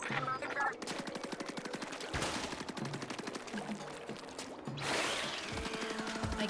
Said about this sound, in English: I can shoot from this high up,